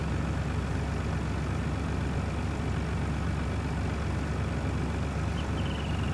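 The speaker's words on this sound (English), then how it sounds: "This truck going up the hill here." Truck engine in Farming Simulator 19 labouring up a hill, a steady loud low diesel drone that holds constant throughout with no talk over it.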